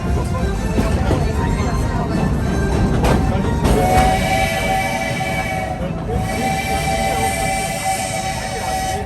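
A steam train on the Magic Kingdom railway rumbles along steadily with clanking wheels and a high whistle tone, while voices talk over the mechanical noise.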